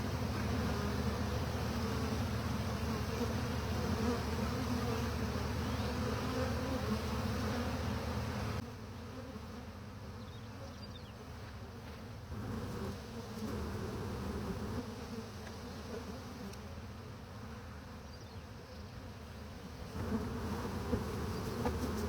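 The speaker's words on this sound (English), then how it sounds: "This is a pretty big swarm, so there's quite possibly more than one queen in here." A large honey bee swarm in spring buzzes as a dense, continuous drone, close and steady throughout, easing slightly partway through, with no talk.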